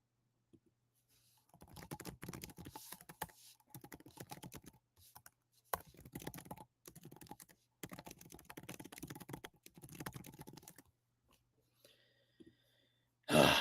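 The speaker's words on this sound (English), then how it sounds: "Dan Mitchell is typing up a storm." Rapid keyboard typing comes in several bursts of clacking keys separated by short pauses, close and fairly quiet, ending with a brief louder noise.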